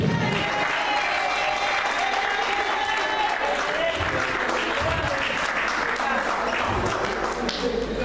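A church congregation applauds steadily and loudly throughout, a continuous wash of clapping with voices mixed in during worship.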